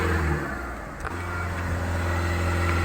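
A car engine, on a car driven well over 1.5 lakh km, is held steady at 2,500 rpm. It gives a loud, continuous drone with a constant pitch and no talking.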